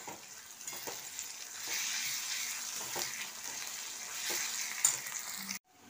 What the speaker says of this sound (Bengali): আদা পেঁয়াজটা ভাজা হয়ে গেছে